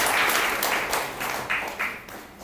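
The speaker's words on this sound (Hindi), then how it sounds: "परमेश्वर को ताली बजा के परमेश्वर का धन्यवाद करें।" Church congregation clapping in thanks to God, a burst of loud rhythmic applause from many hands in a hall, beating in rough unison and fading slightly toward the end.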